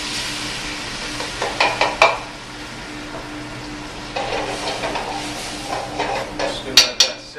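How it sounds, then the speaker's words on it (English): Beer poured into a pot of cheddar broccoli soup, then a low simmer with clinks of a pot and utensil; metallic knocks cluster around two seconds and again near the end over a steady quiet bubbling. "Just going to let that simmer for a while."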